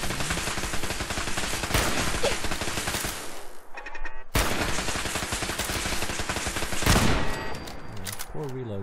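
Gunfire from a weapon in Fallout 4: loud, dense bursts of sharp shots fill the clip, with a brief lull near the middle before heavy firing resumes.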